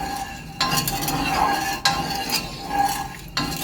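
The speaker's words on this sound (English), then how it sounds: "you want to stir it in while the tea is hot" A spoon stirs white sugar into hot tea for kombucha, making a continuous swishing with faint scrapes and occasional sharp clinks against the vessel, close and steady with no talking.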